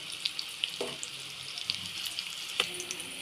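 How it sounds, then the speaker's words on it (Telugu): Stuffed bitter gourds frying in oil, a soft continuous crackle with scattered pops and brief clinks of turning, fairly quiet and close. "ఇంకో సైడ్ కూడా కాలుతుంది ఆయిల్లో."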